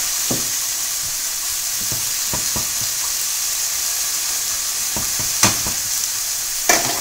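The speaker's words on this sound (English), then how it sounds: "So you're going to add in the asparagus and the shallot all together." Asparagus and shallot fry in a hot pan with a steady, even sizzle, and a few sharp crackles and pops rise out of the hiss.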